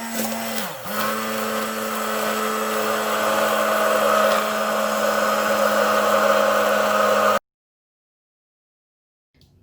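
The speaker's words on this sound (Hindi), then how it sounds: "1 2 3 4 टेबलस्पून वाटर डालने के बाद इसको मैं ब्लेंड करूँगी अच्छे से।" An electric blender whirs steadily as it mixes coffee with a few tablespoons of boiled water for cold coffee, a loud continuous motor drone after a brief dip at startup, then cutting off abruptly into silence.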